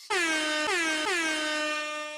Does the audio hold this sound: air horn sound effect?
yes